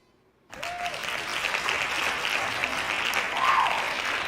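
Hand claps sound effect: a burst of applause from a crowd starts abruptly and continues steadily, dense and fairly close, with no talking over it.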